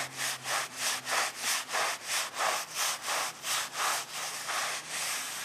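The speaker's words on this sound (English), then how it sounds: "We'll just give it a little bit more scrubbing." A broom scrubs moss off an asphalt shingle roof in quick, regular back-and-forth strokes, about a dozen rhythmic rasping sweeps, close and clear with no voices.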